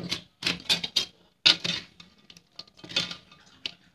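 Fried murukku tossed with sugar syrup and cardamom powder for a sweet Deepavali snack, giving a run of dry scraping, clattering stirs in a pan, close and fairly quiet, with short pauses between strokes.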